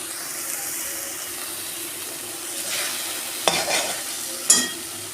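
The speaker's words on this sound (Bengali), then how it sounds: "আমি মশলাটাকে ভালো করে 2 মিনিট কষাবো, যতক্ষণ না তেল ছেড়ে আসে।" Spice masala sautéing in oil for a bitter gourd dish, a continuous close sizzle with stirring and a couple of sharper scrapes near the end, no talk.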